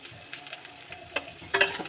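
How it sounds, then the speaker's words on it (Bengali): Potatoes sizzle in a pan with fried garlic, ginger, chili and tomato, with soft continuous frying and a few sharper clinks and stirring scrapes near the end, close and without talk. "এর মধ্যে আমি আলু দিয়ে দেবো"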